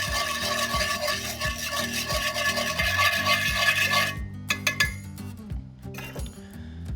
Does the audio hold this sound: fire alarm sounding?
no